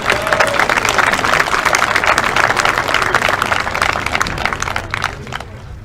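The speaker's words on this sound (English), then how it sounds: "give them another round of applause" A banquet hall crowd at a high school football awards dinner gives a sustained round of clapping for the award winners, dense and steady before tapering slightly at the end.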